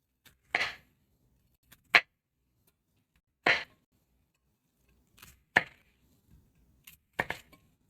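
Knife chopping food on a cutting board while making a steak and ale pie and mashed potatoes: a handful of sharp, separate thwacks spaced irregularly, close and fairly quiet, with no talk.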